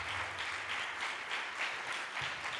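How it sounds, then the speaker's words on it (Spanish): An audience claps steadily, a dense wash of applause at moderate distance with no voices over it. "Un fuerte aplauso, por favor."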